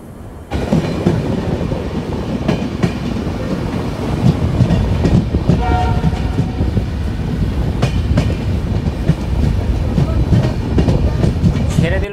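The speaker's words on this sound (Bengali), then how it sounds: "ছেড়ে দিল আমাদের ট্রেনটি ডিব্রুগড় স্টেশন থেকে" A long-distance passenger train pulls out of Dibrugarh station with a loud, steady rumble and rhythmic clatter of wheels over rail joints, and a brief thin squeal partway through.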